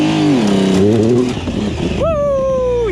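A 1050cc Yamaha Raptor quad with a sticking throttle revs loud and close, its engine pitch climbing and sagging, then surging up again and holding a high whine before slowly dropping.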